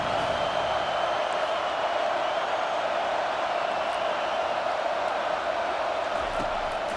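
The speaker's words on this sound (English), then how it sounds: "Here comes this home crowd as the defense tries to get off the field on 3rd down." Home stadium crowd in EA Sports College Football 25 roars steadily as the defense tries for a third-down stop, a loud, dense, continuous wash of cheering with no break.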